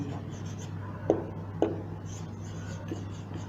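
Math being written on a board, heard as faint scratchy strokes with two small taps in the middle over a low steady hum.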